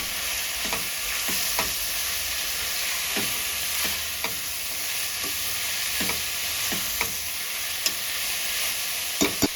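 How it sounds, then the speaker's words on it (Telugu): Finely chopped spinach frying in a pan with chana dal curry, a steady close sizzle broken by intermittent scraping clicks of a spoon stirring, with no voices. "రెండు కట్టల పాలకూర శుభ్రపరిచి సన్నగా తరిగినది వేయాలి"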